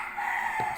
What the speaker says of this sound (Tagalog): Ay kasaba sa akong manok.